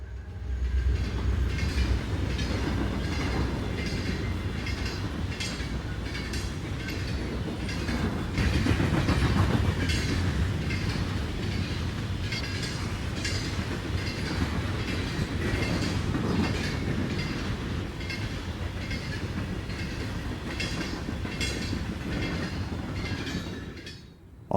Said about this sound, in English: The SD-50 on the lead of this empty coal train was originally B&O's